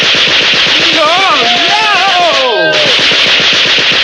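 A cartoon Gatling gun fires in a rapid, steady stream of loud shots, while a voice cries out and whistling, sliding tones rise and fall over the clatter.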